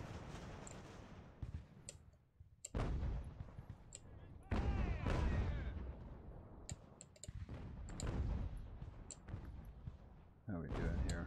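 Broadside cannon fire thunders in Ultimate Admiral Age of Sail, a series of loud overlapping booms in clusters with rolling decays, interspersed with sharp clicking reports.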